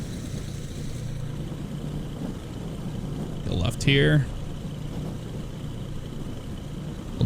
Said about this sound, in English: listen to the sound of those engines and the wind hitting us in the face.